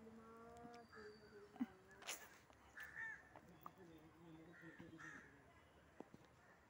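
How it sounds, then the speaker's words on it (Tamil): A crow caws a few times, faint and moderately distant, while a person calls to it and offers biscuits, talking through much of the moment. "ஐய் காக்கா வா சொல்லு காக்கா"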